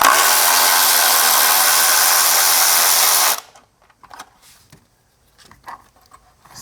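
A socket wrench drives out a bracket bolt on a Nissan 4.0 litre V6 engine with a loud, steady power-tool whir for about three seconds, followed by faint clicks and small metallic handling sounds.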